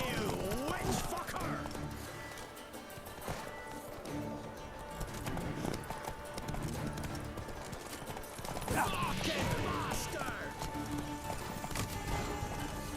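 Horse hooves clop and a horse whinnies in The Witcher 3 on PS4 Pro, amid busy game sound effects and a talking voice, moderately loud throughout.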